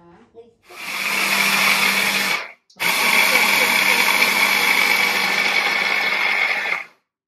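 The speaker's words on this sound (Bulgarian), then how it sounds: "Да го пасираме." A hand blender purees pumpkin in two steady, loud whirring runs: a short burst, a brief pause, then a longer continuous run that stops abruptly.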